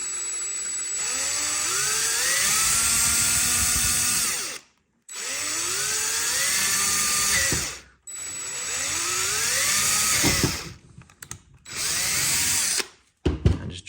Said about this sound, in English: drill your straight hole